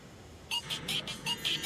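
Dialing a telephone, a short series of about six evenly spaced electronic tones, clear and moderately quiet against a faint background hum.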